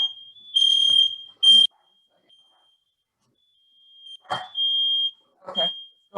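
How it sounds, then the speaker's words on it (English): A smoke or fire alarm sounds in a home with shrill high-pitched beeps, steady tones broken by pauses, recurring near the microphone while a person talks over it. "Got a fire alarm going off here."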